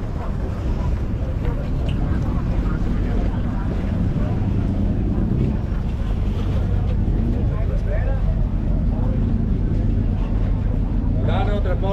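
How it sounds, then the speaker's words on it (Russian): A motorboat carries passengers across the Venetian lagoon toward Burano island, its engine droning steadily under wind buffeting and occasional voices talking nearby. "Грузимся на катер,"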